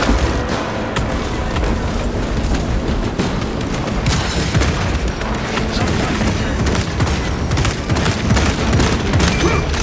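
Melta charge detonating in Warhammer 40,000: Space Marine 2 amid a dense, continuous barrage of booming blasts and rapid gunfire, loud and chaotic throughout, with no clear single isolated blast.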